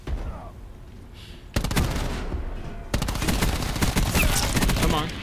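Rapid shotgun and automatic gunfire from the Hacienda map in the Black Ops 4 beta, loud, close and dense, with sharp blasts breaking in at intervals over a steady rumble of battle.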